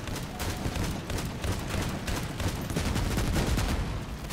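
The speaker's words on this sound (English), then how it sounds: "looks like the artillery targets the whole map" Artillery and gunfire in the vehicle combat game Crossout: a steady rattle of rapid shots and impacts layered into a dense, continuous barrage, with no talk over it.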